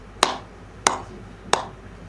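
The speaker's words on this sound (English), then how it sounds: "he is making roti and draws your attention by clapping" Three sharp, evenly spaced claps of hands patting atta dough into roti, each a crisp close slap with a short decay, heard alone.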